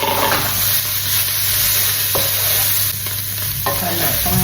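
Greens go into a frying pan with oil and onions, producing a loud, continuous close-up sizzle and hiss with a few sharper crackles and stirring scrapes.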